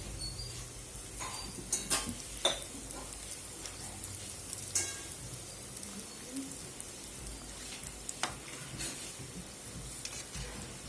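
Raw banana cutlets for a Jain recipe fry in a pan over a low gas flame, giving a faint, steady sizzle with scattered small ticks and pops.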